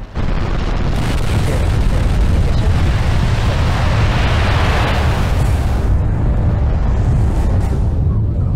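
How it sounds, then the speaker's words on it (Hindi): Nine Merlin first-stage engines of a Falcon 9 ignite at a night launch, building into a loud, continuous broadband roar and rumble that holds steady throughout and eases slightly near the end. "T-3 सेकंड्स पर 9 Merlin engines first stage ignite होते हैं"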